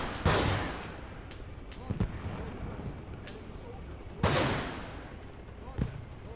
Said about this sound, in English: So we're going to fire some rockets.